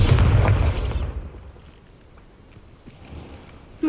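A Bombarda spell detonates in Hogwarts Legacy, a loud booming blast at the start that quickly fades into a quiet, rumbling tail with faint scattered debris sounds.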